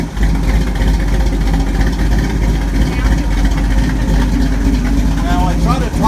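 A 1934 Chevy car engine runs at a steady, loud idle with a continuous low rumble throughout, and people talk over it; no distinct cranking stands out.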